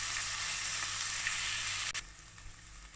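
Onion, tomato, mint and coriander sautéing in a pan for mutton biryani. A strong, steady hiss of frying runs close up, then drops in loudness near the end as the pan is stirred.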